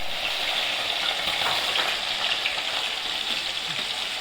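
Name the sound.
curry ingredients frying in a pan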